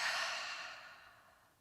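A single deep, slow exhale during a yoga flexibility flow, a soft breathy whoosh that starts strongest and gradually tapers away, heard close and quiet on its own.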